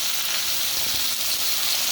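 Okra frying in a pan with ginger and garlic for bhindi masala: a steady, even sizzle of hot oil, close and continuous, with no talking.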